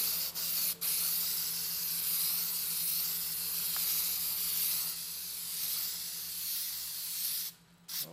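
Aerosol spray can laying a final silver coat on a Chevelle SS wheel, a loud continuous close hiss lasting several seconds, briefly interrupted near the start and cutting off near the end.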